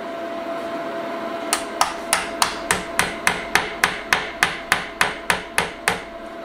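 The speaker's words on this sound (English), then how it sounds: "Tap the plug right home." Hammer tapping a wall plug fully home while mounting an off-grid solar charge controller, about fourteen sharp, evenly spaced taps at a steady rhythm, close and clear over a low background hum.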